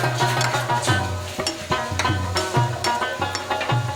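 A spoon clatters steadily as beef karahi gosht is stirred in a pan, with irregular scraping strokes over a constant sizzling cook, close and fairly loud, with no talk.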